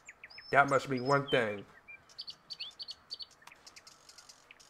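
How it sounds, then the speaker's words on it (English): Bird chirps and tweets in the Fallout 4 game world, short high calls repeating through the clip, first under a man's speech and then alone, fairly faint and spread out in a quiet setting. "I hear a bunch of birds chirping."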